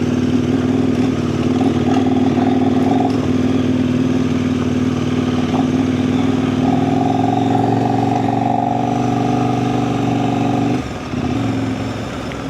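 A motorcycle engine idles and runs steadily, loud and close, with a constant throbbing drone and slight shifts in pitch throughout.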